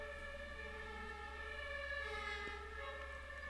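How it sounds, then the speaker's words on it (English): Sirens outside during an evening at a Göttingen club, heard as steady, sustained wailing tones held at a moderate level for the whole stretch, with no voices over them. "I don't like these sirens these days"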